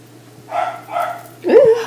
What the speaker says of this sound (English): I think she's barking at squirrels.